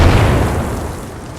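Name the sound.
explosion on the perimeter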